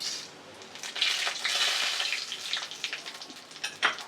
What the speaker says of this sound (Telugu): దీనికి మనమైతే పోపులు అయితే వేసుకుందాం.